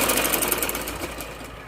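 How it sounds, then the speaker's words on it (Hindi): A sewing machine stitches close alongside a fabric cord while making loop dori, a steady, dense, fast whirring rattle that runs loud and close throughout the short stretch. "इस डोरी के बिल्कुल साथ साथ हम ऐसे सिलाई लगाएंगे और पीछे से खींच के हल्के हाथ से इसको सिलाई लगाते जाएंगे"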